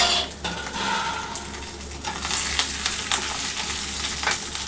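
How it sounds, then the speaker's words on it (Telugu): Green chillies frying in hot oil in a pan, a constant crackling sizzle with sharp pops and occasional stirring clinks close by. "ఇప్పుడైతే మిరపకాయలు వేసుకుంటున్నాము"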